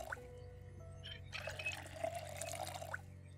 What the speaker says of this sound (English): I'm gonna fill up these empty bottles.